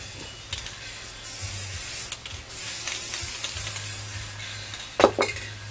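Lubricant sprays onto Honda CR-V rear wheel bearing parts in a few short hissing bursts, fairly close and moderately quiet, among light metallic handling noises.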